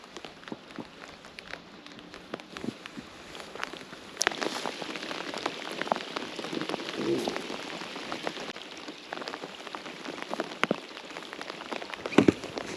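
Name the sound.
light rain drizzling while fishing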